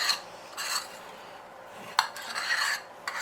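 A utensil scraping around the sides of a mixing bowl while icing sugar is stirred in for carrot cake icing, a few short raspy strokes with a sharp clink, close and fairly quiet, without speech.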